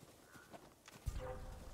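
Horse hooves clip-clop at a walking pace for a moment in a video game, fairly close, followed by a louder low thump and a steady rumble.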